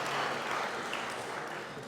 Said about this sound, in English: I think you, the audience, deserve a clap, a big one.